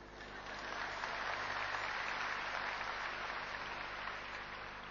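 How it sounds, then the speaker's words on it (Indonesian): A church congregation at an Easter service gives hesitant, muffled applause, a faint continuous wash of distant clapping that holds steady without voices over it. "tepuk tangannya sungkan?"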